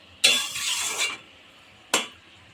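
Potatoes being stirred into a Bengali fish head and cabbage curry in a pan, giving one long scraping stir with light sizzle followed by a short second stroke, close and clear.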